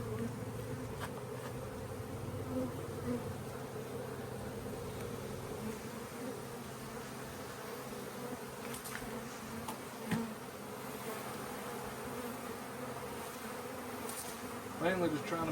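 Dense, steady buzzing of a large honey bee swarm at a big hive, a continuous droning hum close by with brief louder surges and occasional rustles as the bees are shaken into a box.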